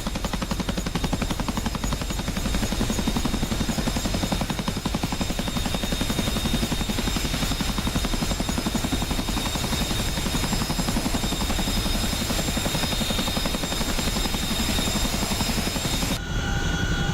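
Military helicopter rotor and engine in DCS World on the Persian Gulf map, a steady loud continuous roar and thrum throughout, with faint gunfire-like crackle mixed in and a brief drop at the very end.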